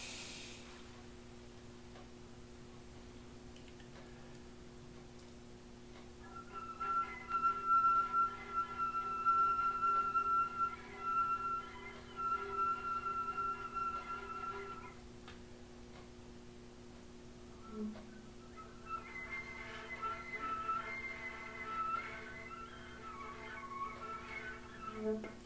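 Soft, thin whistle tones played on an alto flute drift in two faint sustained passages separated by a pause, with a quiet room hiss underneath and no talking.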